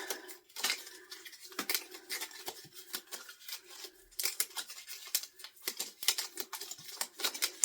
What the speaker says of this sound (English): Here are my Pilot cards. So I will go ahead and shuffle these up.